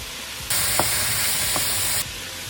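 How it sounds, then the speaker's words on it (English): Ground beef sizzling in a pot, a loud burst of hissing steam that rises suddenly, holds about a second and a half with a couple of stirring knocks, then drops back. "Add 500 grams of ground beef to the pot and cook it through until it's nice and brown."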